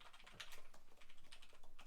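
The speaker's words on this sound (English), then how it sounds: "can you keep typing real quick?" Rapid, soft clicking of keys on a computer keyboard runs continuously in an uneven patter, close but fairly quiet, with no voices.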